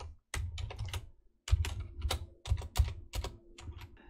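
Rapid bursts of keystrokes on a computer keyboard while code is entered in a Unity C# script, clustered into short flurries separated by brief pauses, close and clear with no talking.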